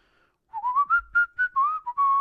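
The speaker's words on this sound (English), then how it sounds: "The whistle tune is something from Lion King," A person whistles a short melodic tune from The Lion King, about a dozen clear, close notes that rise and fall in a lilting phrase, with no talking.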